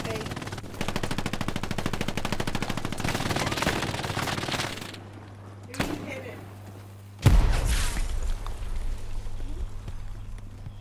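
Machine gun fire in Hell Let Loose rattles in a rapid, sustained burst of close shots, then cuts off. A sharp thump and a loud heavy crack follow over a low background hum.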